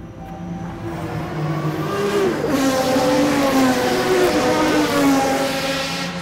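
A car approaches and roars past at speed, its engine pitch rising then falling as it sweeps by, loud and close, with no talk.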